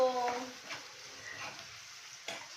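Onions fry in a pan with salt being added, a soft steady sizzle with light stirring and a utensil clink near the end, fairly quiet and close.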